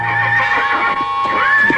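A horse whinnies loudly and close, a long wavering neigh with a few hoof clops beneath it.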